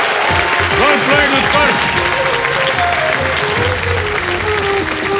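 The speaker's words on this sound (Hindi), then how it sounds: "ताली बज गई" Loud studio audience applause fills a TV quiz show set, steady and dense throughout, with a host's voice speaking briefly over the clapping.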